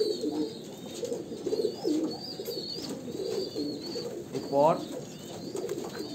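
Kalanka pigeons of an Andhra pure bloodline coo in soft, repeated throaty phrases close by, with a flurry of wing movement near the end and someone talking over them.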